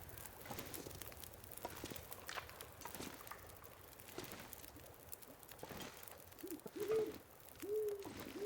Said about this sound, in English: I hear more pigeons.